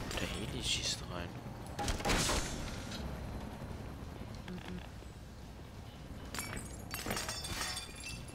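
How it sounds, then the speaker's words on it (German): Helicopter gunfire in the Black Mesa video game, heard as a few sharp bursts of shots around and under a steady game din, with one loud burst early and another cluster near the end. "Der Heli schießt rein."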